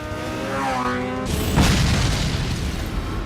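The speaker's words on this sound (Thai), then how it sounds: "ไอ้ที่ถูกยิงถังน้ำมันตรงนั้นก็มาระเบิดตรงนี้แหละครับ" A loud, booming fuel tank explosion in a Mission Impossible film scene bursts in after an engine whine, followed by a long rumbling roar that fills the rest of the clip.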